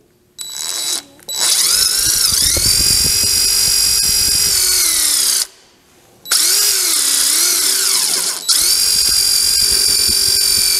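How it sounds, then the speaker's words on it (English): A power drill drives a lag bolt into a wooden gliding rocker in three loud, sustained whirring bursts, the motor note straining and bending as it bites, separated by brief pauses. "put a lag bolt through here to hold it"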